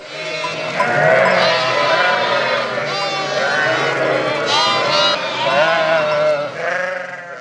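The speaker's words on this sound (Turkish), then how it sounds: "Yeni doğan kuzuların sürü halinde getirildikleri alanda annelerini bulmak için birbiriyle yarışmaları" Many newborn lambs bleating at once for their mothers, high overlapping cries from a crowded flock, loud and continuous with no pauses.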